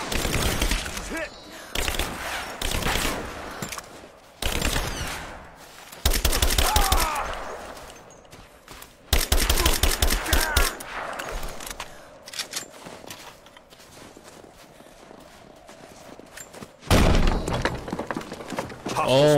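Video game gunfire in a squad firefight, with bursts of automatic fire, sharp shots and impacts coming in loud clusters, separated by quieter stretches of combat noise with occasional voices.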